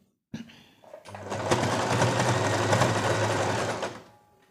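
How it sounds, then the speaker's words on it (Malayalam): A sewing machine stitches folded ribbon onto plain fabric, starting with a sharp click and then whirring in a steady fast buzz for about three seconds before winding down, close and alone. "നമ്മൾ ഈ ഡിസൈൻ ചെയ്ത് വെച്ച റിബൺ ഈ ഒരു രീതിക്ക് മടക്കി മടക്കി സ്റ്റിച്ച് ചെയ്തെടുക്കുക"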